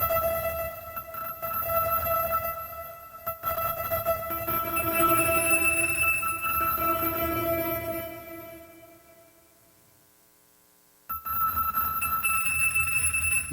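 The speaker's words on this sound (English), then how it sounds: "Now I'm going to add a flex beat." Beat programmed on an Akai MPC Live II with a flex beat layered over a dreamy granulated pad, steady tonal loop playing alone, thinning out near the end, a brief near-silent gap, then resuming.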